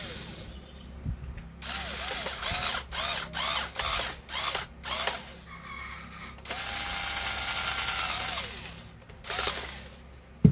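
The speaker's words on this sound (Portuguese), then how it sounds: "Agora a gente vai parafusar novamente aqui, ó." A small power screwdriver drives screws back into a hair dryer housing, giving a series of short whirring bursts followed by one longer steady run, close and fairly quiet.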